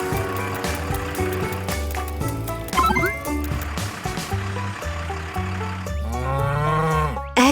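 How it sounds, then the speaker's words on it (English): Cartoon cow mooing in a children's learning cartoon, set among a dense, continuous layer of bright music and sound effects that fill the whole stretch at steady loudness. "Who is it that's making this moo sound?"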